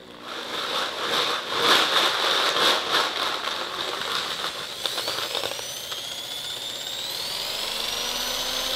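A wheel balancer spins up a wheel loaded with balancing beads, giving a loud whirring rattle that rises in pitch as it speeds up, then smooths into a steady high whine.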